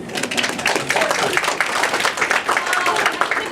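Audience applause in a comedy video game, a dense, steady wash of many hands clapping that holds at an even level throughout, with no voices standing out.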